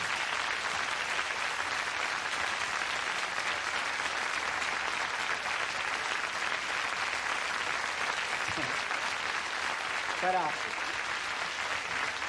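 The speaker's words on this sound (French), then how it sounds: "je crois qu'on peut applaudir tous nos invités pour leur présence ce soir" An audience applauds the guests of an evening television show, a dense, steady wash of clapping that runs unbroken from start to finish, with a brief spoken word near the end.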